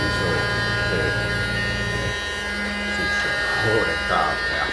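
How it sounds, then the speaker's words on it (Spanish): A small electric vacuum cleaner runs with a steady buzzing motor hum while it cleans fan-cooled electrical equipment near a Truper 750W inverter, close and continuous, with a person speaking over it. "esta aspiradora, este dispositivo que me ha resultado muy útil para limpiar todos los equipos eléctricos que tienen ventilación forzada"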